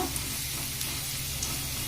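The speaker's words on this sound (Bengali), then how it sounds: "আলুটা হালকা হালকা ভাজা হয়েছে" Steady sizzling of long-cut potatoes frying in hot oil, continuous and close, with a faint scrape or two of stirring.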